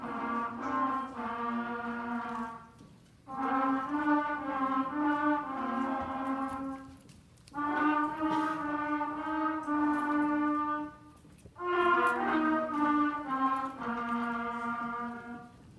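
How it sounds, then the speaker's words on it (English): Trumpets from a school band play sustained melodic phrases in four separate bursts with short pauses between them, bright and fairly close at a June concert, with no talking. "So our next instrument is the trumpet."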